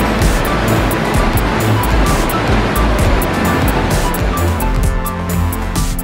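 Sunwapta Falls, an upper waterfall dropping about 60 feet into a river, gives a steady, loud, broadband rush of turbulent water that runs unbroken throughout with no voices.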